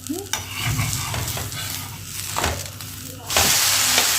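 Butter sizzles on a hot pan while onion uttapam cooks, a loud close frying hiss with stirring and scraping, swelling into a brighter sizzle near the end.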